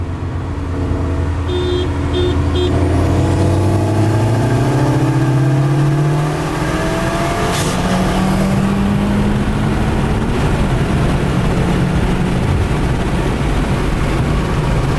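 Modified Subaru WRX and STI accelerate hard in a race, a loud engine climbing through the gears with shifts and rising pitch, while rushing road and wind noise run throughout.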